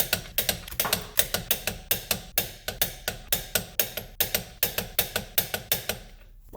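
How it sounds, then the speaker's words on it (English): A ratchet-style torque wrench tightens the wheel lug nuts on a 2006 Subaru Outback, giving a fast, even series of close metallic clicks that stop abruptly near the end. "Then you can go ahead and torque your wheels."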